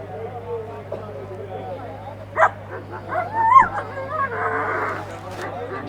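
Dogs of many different breeds bark, yip and whimper at a dog show and puppy market in Nawanshahr, Punjab, the calls scattered and fairly near under lively crowd talk.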